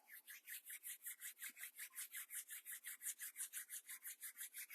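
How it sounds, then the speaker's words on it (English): Palms rubbed briskly together to build warmth, a soft rhythmic swishing of about four strokes per second, close and quiet, repeating evenly with no talk. "Bring your palms together, start rubbing them, creating some heat."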